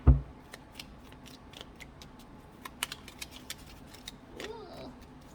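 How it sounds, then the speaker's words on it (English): Tarot cards being shuffled by hand, a close, light run of irregular papery clicks and riffles after an initial thump, with a faint murmur in the background. "these cards do not want to shuffle"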